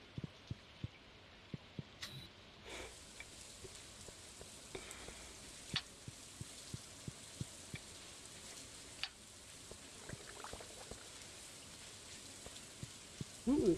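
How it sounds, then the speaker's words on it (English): Steady light rain in the video game Stardew Valley patters with scattered droplet ticks over a soft hiss, continuous and fairly quiet, with a few clicks and a brief louder thump. "Oh, it's raining too."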